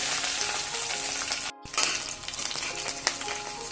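Ingredients frying in a pan for kharda chicken, a steady close crackling sizzle that breaks off for an instant and then carries on with faint stirring, with no one talking.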